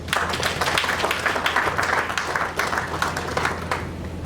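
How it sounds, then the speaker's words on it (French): Audience applause at a congress session, a dense, steady patter of many hands clapping throughout, fairly close and even in loudness, with a low hum underneath. "Je voudrais qu'on puisse les applaudir, s'il vous plaît"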